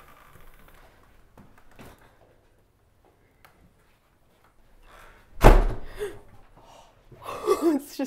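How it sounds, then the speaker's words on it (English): An indoor door slams shut with a single loud, sharp bang in an empty, quiet room of an underground pub's old prison cells, followed by a lingering rumble and a later burst of gasping sound. "It's just the door."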